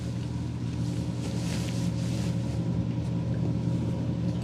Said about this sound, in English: it's our neighbors down there running their engines